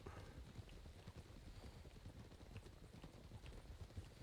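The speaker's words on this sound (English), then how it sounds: "There's a lot of horses on the beach." Hooves of several horses clip-clop in a steady, overlapping rhythm on a beach in a video game, with a continuous low rumble underneath, close and fairly loud throughout.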